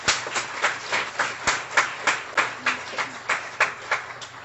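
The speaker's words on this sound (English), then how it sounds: "Please, a warm round of applause for Zimmet Healthcare Services." Applause at a Guiding Eyes guide dog graduation ceremony: a steady crowd claps in an even, rhythmic patter for several seconds, with individual sharp hand claps standing out at regular intervals and no talk over it.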